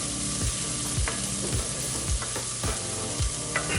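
Onions sautéing in a pan, a steady close sizzle under a rhythmic scraping as a utensil stirs them about every half second, with no voices.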